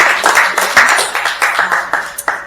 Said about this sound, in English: If you guys can just give yourself a round of